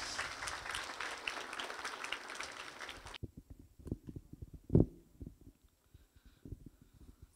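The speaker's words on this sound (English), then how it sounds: "Once again, another round of applause." Applause at a Hindu graduation ceremony in Tunapuna fills the first three seconds as a dense, steady patter, then cuts off, leaving scattered quieter noises.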